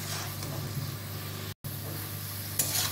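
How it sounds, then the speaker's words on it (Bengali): Ground spice paste being fried with jackfruit in a pan for a prawn and jackfruit curry, a steady sizzle with stirring and a brief gap of silence partway through. "এবার কষিয়ে নেবো মশলা বাটি।"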